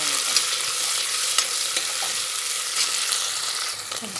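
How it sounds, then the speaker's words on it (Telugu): Onions, mint and coriander fry in a pan with a dense, continuous close-up sizzle, punctuated by light scrapes and taps as they are stirred, with no speech. "ఉల్లిపాయలు, పుదీనా, కొత్తిమీర వేసుకొని కొంచెం ఫ్రై చేసుకుందాం"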